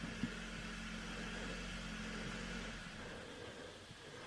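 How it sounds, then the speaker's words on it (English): A car engine idles beside a road near woods, a low, steady, quiet hum that runs evenly and then thins out toward the end, with no talking. "You shut that engine off."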